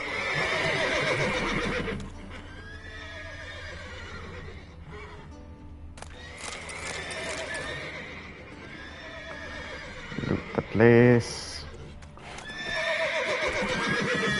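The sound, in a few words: horses neighing in a video game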